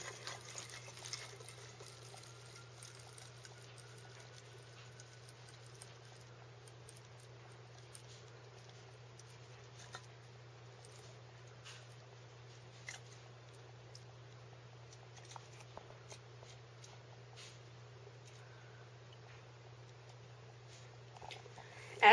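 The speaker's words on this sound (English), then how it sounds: "As the vortex drains down, the water rushes down the sides of the inside of this bottle" Water swirling as a vortex drains out of a bottle through a connector into another, a faint steady trickling and patter held at low level throughout, with a constant low hum underneath and no voices.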